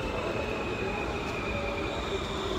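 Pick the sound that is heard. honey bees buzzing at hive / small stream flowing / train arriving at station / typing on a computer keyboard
train arriving at station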